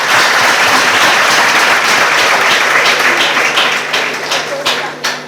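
Students at a secondary school applaud a visiting honorable guest with loud, dense clapping that thins out toward the end into scattered individual claps.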